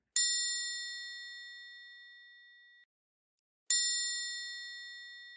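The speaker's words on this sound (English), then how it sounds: "He received a sound of a bell, and then the bell translated into Arabic." Two clear metallic bell dings ring out alone, each leaving a long, bright, slowly fading tone.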